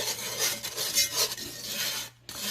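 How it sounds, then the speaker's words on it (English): Thickened gravy being stirred in a pan for shrimp and grits, a steady scraping, rasping rub of a utensil against the pan, close and continuous with a brief pause near the end. "my gravy is coming back to a boil over here. So I'm gonna stir this up."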